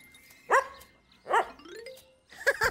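A dog gives three short, high barks spaced about a second apart in a cheerful children's sing-along setting, loud and alone with no talking over them.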